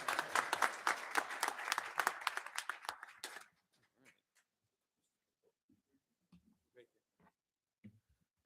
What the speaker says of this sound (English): Can I get another round of applause for Brian Truitt,